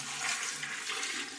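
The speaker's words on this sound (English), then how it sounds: "I need to add water as well" Water pours steadily from a measuring container into a kombucha fermenting vessel while a batch of concentrate is diluted, a continuous close splashing rush with no talk.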